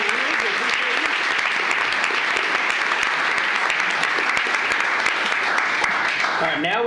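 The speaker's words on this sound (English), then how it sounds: "Let's give them a round of applause for 15 years." Room full of people at a county commissioners court meeting giving a loud, continuous round of applause for long-serving employees, with dense clapping throughout and some voices mixed in near the end.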